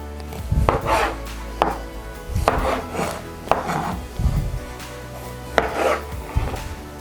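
A knife cutting tomatoes for pico de gallo on a board: a handful of separate dull thuds and slicing strokes at an uneven pace, close and moderately loud, with no talking.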